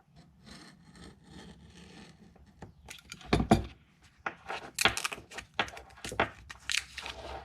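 Cutting off a wire while replacing the starter on a 2015 Volvo V60 T5 Drive-E: scraping and snipping sounds come in short uneven bursts, close and moderately loud, after a quieter stretch of faint handling.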